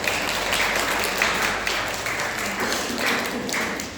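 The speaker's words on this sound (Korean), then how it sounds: "축하의 박수를 드리겠습니다" A church congregation at a Sunday service applauds to congratulate award recipients, producing a steady wash of clapping that swells and eases across the few seconds, with no speaking heard over it.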